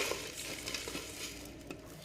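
Whole spices, dried chillies and curry leaves dry roasting in a pan for a Chettinad fish curry masala, giving a soft steady crackle with light scraping stirs throughout.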